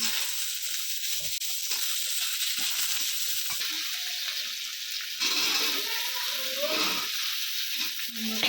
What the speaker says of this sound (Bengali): ভেজে নিচ্ছি বেগুন দিয়ে দিচ্ছি